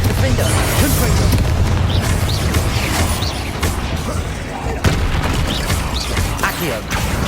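Bombarda spell blasts in Hogwarts Legacy gameplay, a dense run of booming bursts and pops over a constant loud game soundscape of mechanisms and effects, alone without talk.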